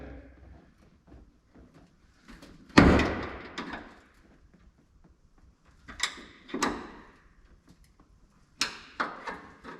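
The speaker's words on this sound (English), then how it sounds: "It's amazing how much swing that door has on it now, isn't it?" A pickup truck door on a single-cab dually, pried loose with a big pry bar, gives a loud metallic clank and creak, followed by two later bursts of knocking and scraping as it swings on its hinges.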